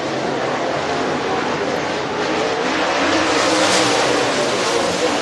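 Dirt race cars roaring around the Duck River Raceway Park speedway on hot laps, a loud continuous engine blare that swells slightly as the pack passes, with faint commentary underneath.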